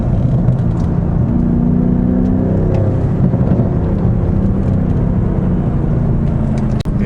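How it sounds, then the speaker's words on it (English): A 2016 Audi S6 on the road, its engine and exhaust giving a loud continuous low rumble and whir that swells briefly as it revs, with a sharp pop near the end. "the exhaust sounds really good with the crackles and pops and everything"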